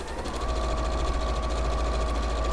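A sewing machine runs continuously, stitching floral turtle cushion pieces together in pairs, giving a fast, even mechanical hum and rapid needle rattle at close range, with no talking.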